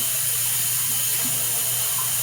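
Warm tap water gushes steadily into a sink while containers and glasses are rinsed of soap, making a loud, continuous, unbroken rushing stream close by.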